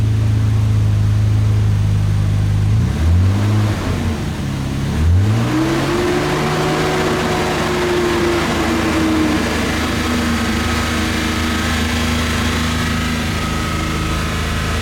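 A Nissan RB26DETT engine idles and then revs twice, pitch rising and falling, before settling into a steady, loud running hum close by.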